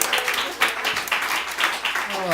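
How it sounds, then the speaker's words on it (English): Audience applause at an improv comedy show, moderate clapping with a few louder swells, partly under talk and laughter. "Give him a round of applause."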